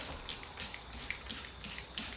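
Short hissing sprays of paint stripper from a trigger bottle, about six quick bursts in an even rhythm, close and fairly loud.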